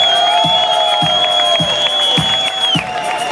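A festive crowd at a party cheers and applauds for an accordion player, loud and continuous, with sustained music tones and a steady beat running underneath.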